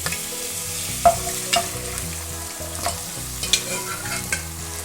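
Pressure-cooked mutton poured into hot sesame oil with fennel seeds sizzles steadily, with a few sharp stirring clinks and scrapes from a pan close by and no talking.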